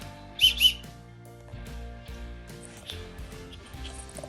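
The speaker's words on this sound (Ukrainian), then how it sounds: "Це свистунець." Two short, shrill toots from a toy whistle close by near the start, then quieter rustling and handling noises with a low hum underneath.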